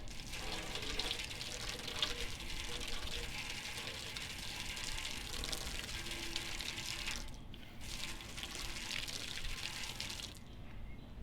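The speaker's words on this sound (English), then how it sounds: "let's use the foam extinguisher to prevent an ignition" A foam fire extinguisher sprays onto spilled gasoline and a tin container in a steady hissing gush, close and loud, that cuts out briefly twice near the end.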